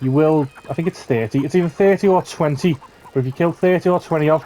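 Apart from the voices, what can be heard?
None of the usual background noises is heard.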